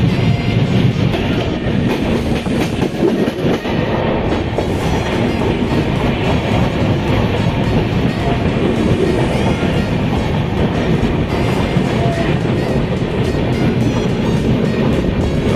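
A train rumbles loudly and continuously along the rails, close by, with a steady rattling clatter of wheels throughout, on a main line in the Konkan region of India during rain.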